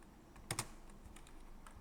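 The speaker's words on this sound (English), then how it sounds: "if you start typing something in like that and do a control space" Typing on a computer keyboard while entering code in an editor, a quick pair of close key clicks followed by a few fainter taps against a quiet room background.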